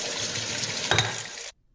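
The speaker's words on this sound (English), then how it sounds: "To get it out of the beaker, I just have to run it under some warm water." Warm tap water runs steadily over a beaker holding frozen vodka, a continuous close hiss and splash with a brief louder surge before it cuts off abruptly.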